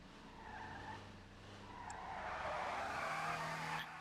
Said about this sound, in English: Look at this car peel out.